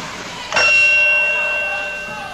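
A single bright ring of a wrestling ring bell at a 1976 NWA match sounds about half a second in, clanging loudly and then ringing out slowly with a long fading tail.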